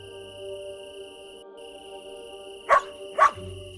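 In the Lost Lands 9 video game, a dog gives two short, sharp barks in quick succession over a steady background of chirping insects and a faint electronic tone.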